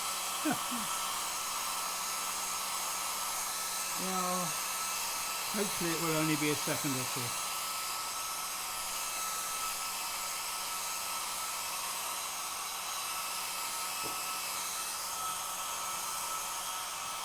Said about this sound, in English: Using a hairdryer to dry it quicker?